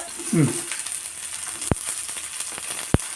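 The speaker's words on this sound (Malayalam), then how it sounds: "എണ്ണ ഒന്ന് ചൂടാകുമ്പോൾ ചോപ്പ് ചെയ്തെല്ലാം കൂടെ ചോപ്പ് ചെയ്ത സവാളയും പച്ചമുളക്" Chopped onion and green chilli frying in hot oil for tomato chutney give a soft, steady sizzle, with a brief voice at the start and a couple of sharp utensil knocks against the pan.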